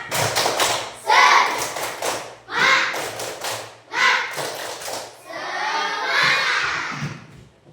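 Classroom children performing the rhythmic 'tepuk semangat' clapping chant, bursts of group clapping alternating with shouted chanting in a patterned rhythm, loud and close.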